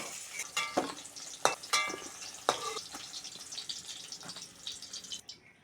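Bay leaves and chopped onion go into hot oil in a village kitchen, giving bursts of crackling sizzle with sharp spattering pops and stirring scrapes that settle into a softer fry.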